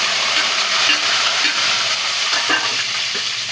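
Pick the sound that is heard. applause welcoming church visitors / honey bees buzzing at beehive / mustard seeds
mustard seeds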